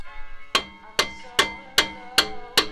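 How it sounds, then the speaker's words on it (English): Six sharp metallic hammer blows on a Lexus GX470 brake rotor at a steady rhythm, each ringing briefly, close and loud. "this is where you might need a hammer or mallet or something like that"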